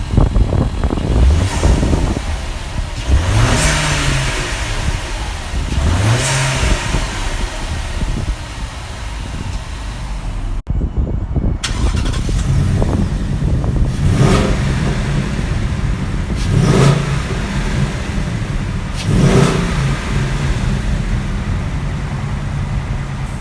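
Two 2018 Ford Mustangs, a V8 GT and a turbocharged EcoBoost, rev loudly up close with a steady engine drone between the sweeping throttle blips. The blips come in repeated bursts, two runs of revs split by a brief gap, with wind buffeting the microphone.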